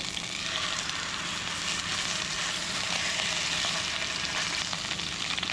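Wagyu beef sizzling in sesame oil in a pan, a steady close crackle and hiss of frying that holds evenly throughout with no talk.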